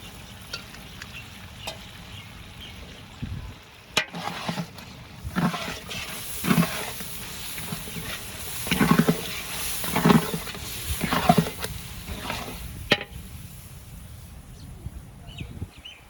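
Two kilograms of boiled chickpeas frying in a large pot, with repeated scraping stirs and bursts of sizzle at irregular intervals, close by with a faint background hiss.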